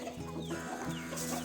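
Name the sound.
desi chickens clucking on a farm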